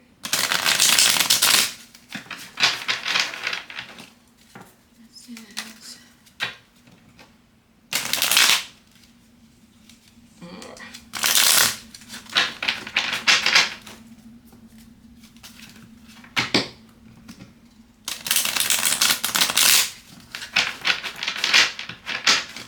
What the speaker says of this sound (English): And then I'll shuffle this one.